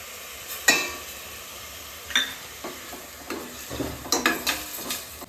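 Tomato paste goes into a crab curry in a pan, with soft sizzling under a few sharp scrapes and clinks of stirring, close and without talk.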